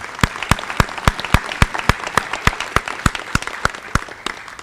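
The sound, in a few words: audience applause at senior awards assembly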